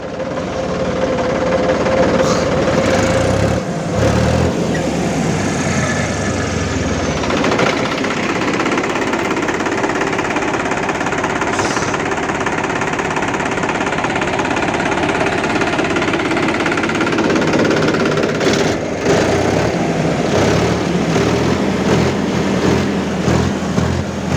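A loud, steady diesel engine of a Mahindra 295 tractor runs throughout, with rough knocking and rattling vibration and occasional clanks, heard close up with no talking.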